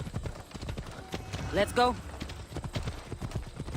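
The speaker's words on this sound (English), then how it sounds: "No, that's just the way the horse works in this game." Horse hooves clip-clop in Assassin's Creed Odyssey, a steady close trotting beat with a brief whinny partway through, running under talk from a player.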